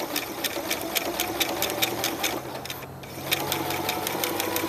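A sewing machine runs steadily while stitching a free-style appliqué pattern, with a rapid, even needle rhythm, one brief pause near the middle, then stitching again, loud and close with no talking.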